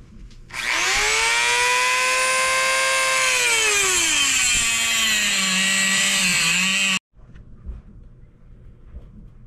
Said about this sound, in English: and then I grind it with the grinder